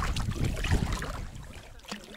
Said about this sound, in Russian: Блин, ветер.